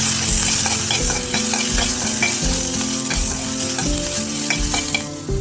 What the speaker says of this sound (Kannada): ಕ್ಯಾಪ್ಸಿಕಮ್, ಟೊಮೆಟೊ, ಸ್ವಲ್ಪ ಫ್ರೈ ಮಾಡಿ